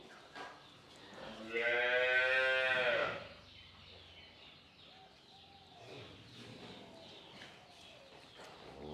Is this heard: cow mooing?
yes